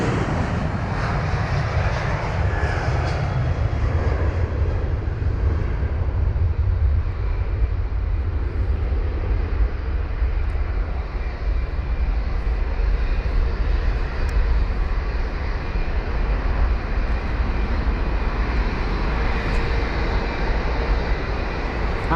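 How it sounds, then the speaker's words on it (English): A KLM Boeing 737-800 bound for Amsterdam roars at London Heathrow, a loud, broad, unbroken jet rumble that holds steady for over twenty seconds with no voices. "we've got the KLM 737-800 heading to Amsterdam"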